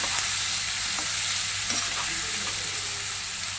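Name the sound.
onions frying on the stove for brinjal curry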